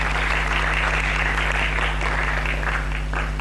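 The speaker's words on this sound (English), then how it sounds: "Please let's give them a round of applause." Audience applause at a climathon event in Sochi, a steady dense wash of clapping from a crowd that holds at an even level throughout without pause.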